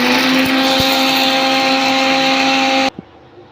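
Mixer grinder grinding spices for idli podi, a loud steady high whine that runs for nearly three seconds and then stops abruptly, leaving a faint clunk.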